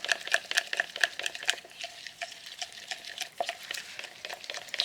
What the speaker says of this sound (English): Can you see it's all streaky, so it needs to give a good stir.